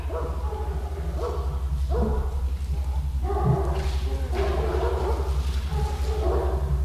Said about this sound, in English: the dogs, it's almost dinner time for them, so they're just barking.